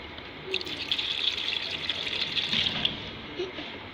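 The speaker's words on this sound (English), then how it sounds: "When it's done, I'll add my alcohol." Alcohol is poured into a homemade hand sanitizer mixture in a thin, steady trickling stream, close and fairly quiet, running for several seconds.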